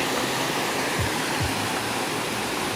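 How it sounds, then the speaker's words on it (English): A waterfall beside a park pond in Hong Kong pours with a dense, constant roar of falling water, close and even throughout, with no voices. "That waterfall."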